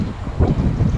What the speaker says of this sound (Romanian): Cam bate vântul.